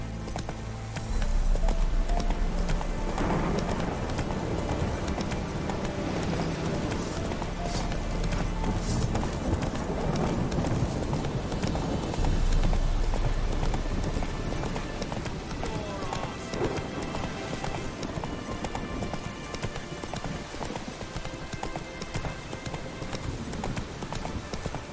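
Horse hooves galloping in The Witcher 3 video game, a fast steady clip-clop rhythm close by that runs throughout, over a low rumble and background game sounds.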